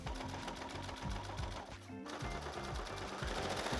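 A sewing machine runs in fast, rhythmic bursts, stitching boning down on a satin prom dress, with a short pause midway before the close mechanical chatter resumes.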